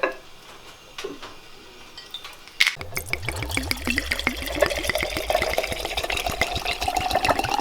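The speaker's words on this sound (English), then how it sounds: "Making sure that the vanilla beans are covered with the alcohol." Alcohol pours and trickles over vanilla beans in a small glass jar, starting as faint drips, then a bright clink, then a continuous splashing, bubbling flow close by.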